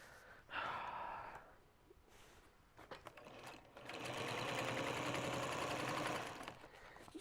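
A sewing machine stitches through fabric and vinyl in loud, rapid mechanical bursts, with a short run, a pause with faint breathing, then a longer steady run of chattering stitches.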